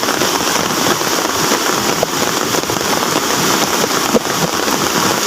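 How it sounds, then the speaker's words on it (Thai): Heavy rain pouring down on a flooded village, a loud, dense, unbroken hiss of drops hitting water and surfaces, with an occasional sharper patter. "ตอนนี้ฝนตกหนักมากเลยครับผม"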